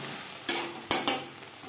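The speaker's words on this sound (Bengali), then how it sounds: "আলুর সাথে মশলা বেশ ভালো করে কষিয়ে নেওয়ার পর দিয়ে দেবো 5-6 কোয়া রসুন" Potatoes, spices and garlic frying in a pan for a Bengali fish head curry, a soft steady sizzle broken by a few sharp stirring scrapes.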